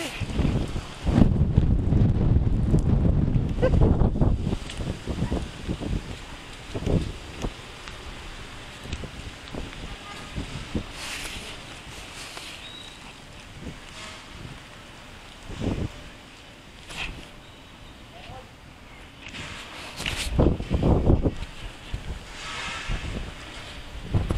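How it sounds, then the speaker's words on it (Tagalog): Strong gusting wind roars through trees in bursts, heaviest at the start and again near the end, with rough buffeting against the microphone and no voices. "Ang lakas ng hangin ng puno."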